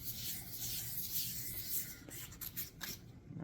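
Hand sanding a wooden gunstock to work sawdust into the pores, a steady close rasping rub with back-and-forth strokes that turn choppier toward the end.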